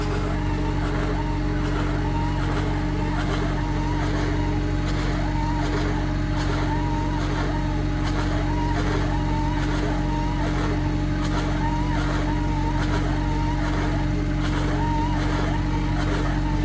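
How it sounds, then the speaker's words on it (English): A tractor runs a bale wrapper as it wraps haygrazer baleage in a field. The engine drones steadily and loudly up close, and a repeating mechanical whir from the wrapper rotates through it. "Getting started doing a little wrapping here."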